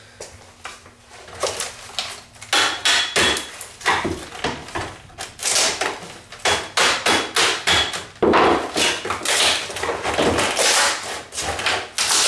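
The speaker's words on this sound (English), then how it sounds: "Chisel or a screwdriver and a hammer." Metal hammer repeatedly striking a chisel or screwdriver while working on an F-14D Tomcat scale model, a long run of sharp, loud, irregular knocks and taps close by with no speech.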